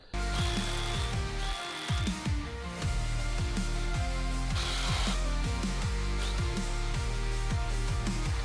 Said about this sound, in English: I already had these bolts loose way back when I was messing with this gearbox, so should be easy to just take them out.